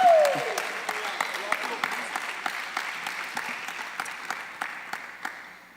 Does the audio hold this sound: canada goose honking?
no